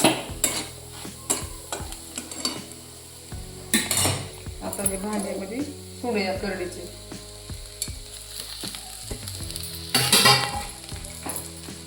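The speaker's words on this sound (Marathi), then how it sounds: "थोडीशी कच्ची राहिली की उघरट वास हिरव्या मिरचीचा त्याच्यामुळे चांगली मिरची तळू द्यायची" Green chillies fry in a pan in a village-style Marathi kitchen, with steady sizzling under repeated metal stirring and scraping of a utensil against the pan, close and fairly loud, with occasional clinks.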